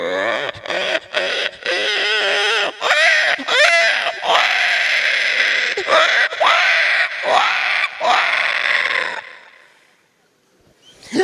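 A man imitates a pig on stage at a comedy event, producing loud, rapid squeals and grunting squeaks in short bursts that stop abruptly, followed by a brief lull.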